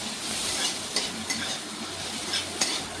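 Peas and raisins are stirred gently through a pan of boiled lentils and vegetables, soft scraping strokes with a few light clinks of the spoon over a faint sizzle, close and without talk.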